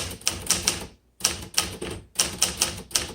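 Rapid bursts of typing on a 1957 Remington Quiet Riter vintage manual typewriter, crisp key strikes in quick clusters separated by short pauses, close and clear with no talking.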